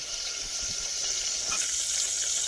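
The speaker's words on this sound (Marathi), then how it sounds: "लसूण टाकला" Garlic fries in hot oil in a pot on a wood-fired clay stove, giving a continuous, fairly loud sizzling hiss with no talking.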